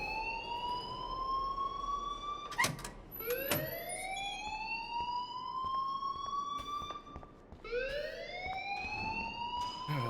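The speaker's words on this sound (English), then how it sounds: "please turn off that alarm since that's your job" A fire alarm in the video game Life is Strange wails in repeated rising sweeps, fairly loud and persistent, with a few sharp clicks and knocks breaking in between the tones.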